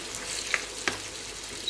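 Apples cooking in a pan give off a steady broadband sizzle and bubbling, moderately loud and close, with a couple of brief sharper pops. No one talks over it.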